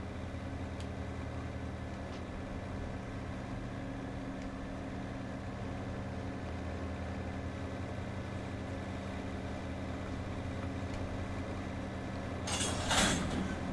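Freight train locomotives pulling uphill in the Run 8 rail simulator, a steady low engine drone and rumble throughout with a brief louder hiss or release near the end.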